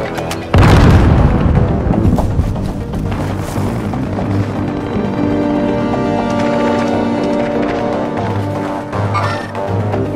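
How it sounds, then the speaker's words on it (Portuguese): A grenade blows up in the Call of Duty Warzone battle royale on Rebirth Island, a loud booming blast that sets off a sustained rumbling roar of gunfire and game noise lasting several seconds. "Granada lançada!"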